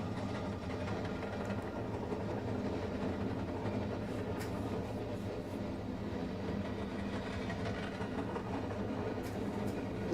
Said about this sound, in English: Looks like we have a regular manifest train here going by Greeley.